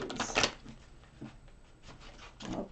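Tarot cards shuffled by hand, a couple of short crisp riffling bursts separated by quieter handling noise, close and fairly soft with no talk.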